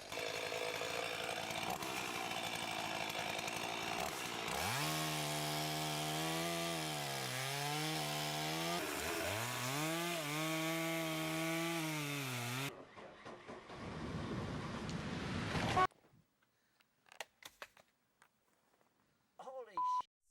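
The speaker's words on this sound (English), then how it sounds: "This stump grinder uses a high-speed cutting wheel with ultra-hard metal teeth to shred stumps into sawdust in minutes" A stump grinder's high-speed cutting wheel with ultra-hard metal teeth shreds a wood stump, a loud sustained grinding roar with rising and falling pitch sweeps, then abrupt cuts to quieter bursts and silence.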